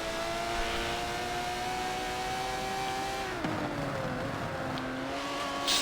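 Aston Martin DBR9 race car engine in a racing video game at Brands, a steady high engine whine that drops in pitch near the middle as it shifts or brakes, then holds a lower tone, loud and continuous with no talk.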